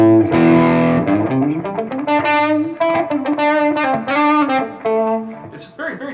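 A 1991 Les Paul electric guitar with a Seymour Duncan Pearly Gates pickup plays loud, overdriven chords and sustained notes that ring out in a steady run with no talking.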